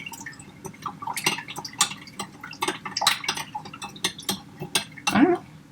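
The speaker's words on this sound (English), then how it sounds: "So I'm just going to keep stirring a little bit." A spoon stirring sugar into lemon and lime juice, with steady close clinks and scrapes against the bowl and the quiet slosh of liquid, alone without any talking.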